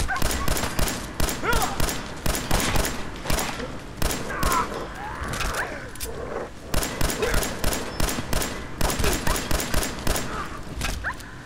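Rapid, repeated gunshots ring out in Fallout 4 as bursts of sharp, close cracks, nearly continuous, with brief lulls and other game sounds between volleys.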